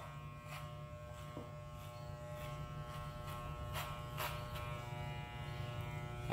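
Electric hair clippers buzzing steadily and close while cutting hair diagonally on the left side during a modern discreet mohawk haircut, with soft crackling bursts as the blades pass through hair.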